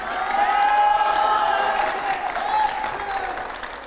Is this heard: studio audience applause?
yes